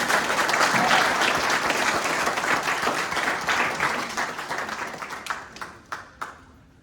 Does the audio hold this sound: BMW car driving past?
no